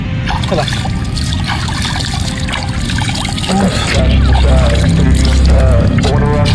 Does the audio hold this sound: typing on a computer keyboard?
no